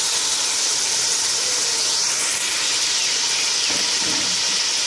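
Tomatoes and spices fry in a pan for okra bhujia, giving a dense, continuous close-up hiss and sizzle at an even level throughout, with no talking.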